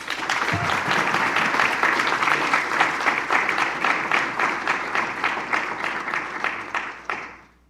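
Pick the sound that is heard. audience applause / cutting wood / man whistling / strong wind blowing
audience applause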